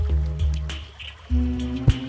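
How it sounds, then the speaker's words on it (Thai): Water dripping from a waterfall in the video game Terraria, heard as a few close, clear, plopping drips repeating against a low watery hum. "เป็นไงบ้านเรามีน้ำตกเนี่ย"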